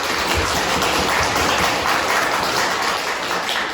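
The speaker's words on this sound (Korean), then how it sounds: "감사의 박수를 한번 하나님께 올려드리겠습니다" A church congregation claps together during a Sunday worship service, giving thanks to God, a dense, even roar of hands sustained throughout at close, strong volume.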